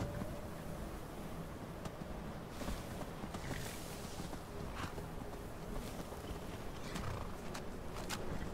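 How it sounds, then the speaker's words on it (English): Horses in Skyrim Special Edition stand near the player during the battle for Whiterun, heard as faint hoof shuffles and snorts buried in a steady windy ambient wash. Quiet and continuous, with no voices. "I'm going to hide behind these horses"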